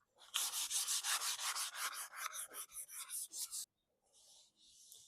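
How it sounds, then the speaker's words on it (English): Sandpaper of P240 grit rubs by hand across wooden outdoor furniture in a quick rhythmic series of about a dozen close, scratchy back-and-forth strokes, then a brief pause and two softer strokes. "Now I'll try to smooth it out with the P240."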